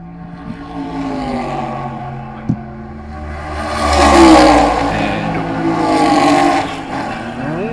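A race car at Road America in the WeatherTech International Challenge drives up the hill, its engine droning steadily and swelling as it revs, loud and moderately near, with a single sharp knock partway through.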